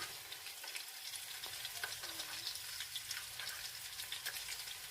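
Chicken flautas frying in hot oil in a pan, a steady close sizzle with soft crackling pops throughout, no voices.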